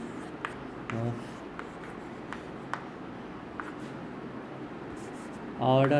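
Pen strokes scratch across paper while notes are written out, as short, close scribbles with small pauses between them, followed by a brief thump near the end.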